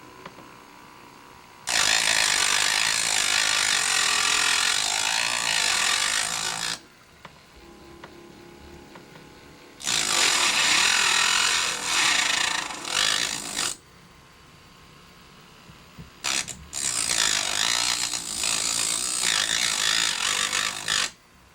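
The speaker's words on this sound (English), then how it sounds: "I do it with this cordless Dremel and a smaller cutting disc because I control the speed of it." A cordless Dremel with a small cutting disc cuts model railway rail joints in three sustained, loud, close grinding bursts of several seconds each, separated by quieter handling pauses.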